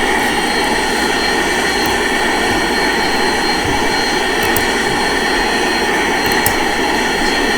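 The four jet engines of a 747 in a flight simulator game give a loud, constant whine and roar, droning steadily with no letup and no talk over it.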